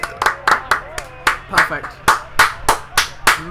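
Spectators at an amateur football cup final clap after a goal, a dozen or so sharp, distinct hand claps at a fairly steady pace, close by, with someone talking over them.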